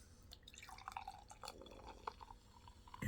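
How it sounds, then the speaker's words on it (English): Root beer poured into a glass, a soft splashing trickle with small glassy drips and fizz, quiet and close with no talking. "Okay. Let's go and pour."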